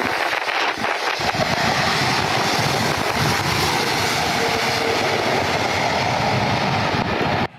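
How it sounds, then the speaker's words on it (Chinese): A passenger plane lands on a flooded runway at Kaohsiung's Xiaogang airport during a typhoon, giving a loud, continuous engine roar and rushing spray that fills the whole stretch without speech. "只见飞机一降落，卷起跑道上的积水，在后方拉起长长一条水花，看起来气势吓人。"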